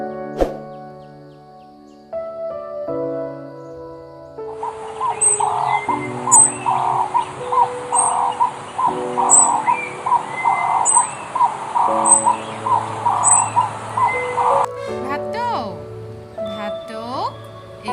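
A dove calling in a series of repeated, evenly spaced soft calls with small high chirps above, over steady electronic music tones, with a voice speaking at the start and end.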